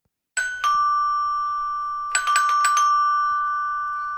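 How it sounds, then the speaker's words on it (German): A doorbell at a front door rings twice, a bright two-tone ding-dong each time; the second press gives a quick flurry of repeated chimes whose tones hang and slowly fade in a quiet room. "Und darum hat er beschlossen, an der nächsten Haustüre zu läuten."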